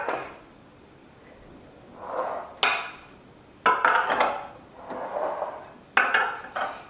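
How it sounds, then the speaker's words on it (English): Metal donut baking pans handled in a home kitchen, several sharp clanks and scrapes as the pans are picked up and set down, separated by quieter rustling, close and clear. "we are going to grab our donut pans."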